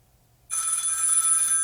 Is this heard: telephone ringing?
yes